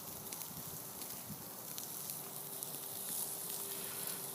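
Tri tip searing on a Weber grill, reverse-seared with Santa Maria seasoning, giving a soft steady sizzle and crackle of meat over the fire, faint and continuous throughout with no talking.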